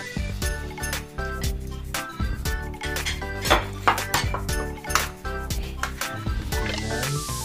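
Crispy kare-kare is mixed on a plate with a spoon and fork, giving loud, close, continuous clinks and scrapes of metal cutlery on the dish with short rhythmic bursts.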